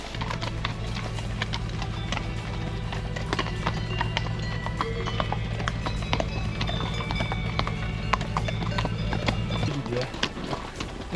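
Horse hooves clip-clop steadily along a mountain trail in the Beaufortain Alps, a close, continuous rhythmic clatter with a low drone underneath.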